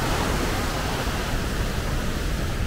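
Steady rushing water fills the air from a stream near Kelavali waterfall, Satara, in heavy rain, a smooth, even, close wash of sound.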